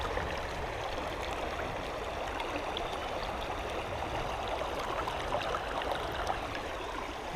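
Creek rapids flowing, a steady, quiet rushing and burbling of water over rocks that continues evenly throughout with no voices.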